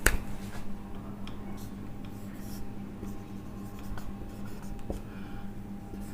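A pen or marker squeaks and taps in faint, scattered strokes across a board during a chemistry lecture, over a steady low room hum, with no talking.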